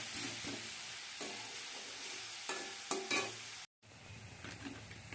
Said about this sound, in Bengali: গ্যাস কমিয়ে ওকে পাক দিয়ে নিতে হবে